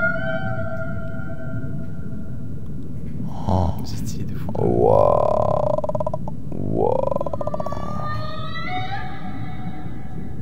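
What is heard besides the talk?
sperm whale vocalizations in a TikTok video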